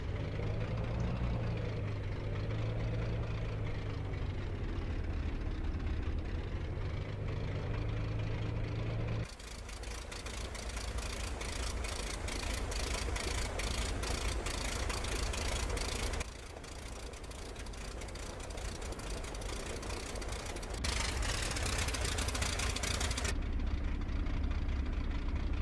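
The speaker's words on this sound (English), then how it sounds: "listen to the sounds of the aircraft engine" A simulated Extra/Edge 540 aerobatic plane's piston engine idles on the runway in DCS flight simulator, a steady loud drone with abrupt shifts in tone and harshness, no voices.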